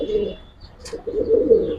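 A military hamer pigeon gives low, throaty coos close by, two soft bursts separated by a brief pause, with no talk over them.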